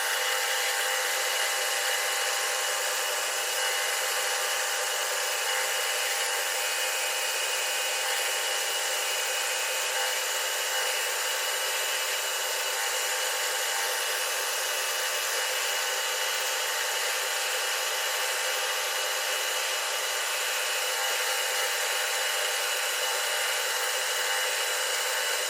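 A power tool cuts around the edge of a round wooden mould for building a guitar, making a constant, even whine that holds steady and unbroken for the whole stretch, with no talking.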